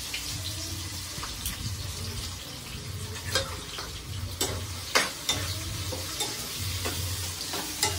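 Onion and green chillies frying in hot oil for a mutton gravy curry, a busy crackling sizzle with repeated stirring scrapes and a few sharp pops, close by and free of speech.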